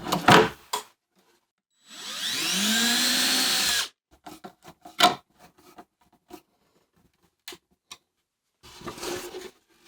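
A power drill runs in one steady burst of about two seconds, whining as it drives screws into a tool cart cabinet drawer in a workshop. Scattered knocks and clicks of handling follow.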